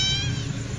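A single cat meows once, long and drawn out with a falling pitch, close by over a low outdoor rumble in a bitter gourd field.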